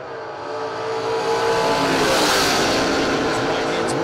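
A Camaro drag race car roars off the line and accelerates down the drag strip, its loud engine rising and filling the air, with an announcer talking over it.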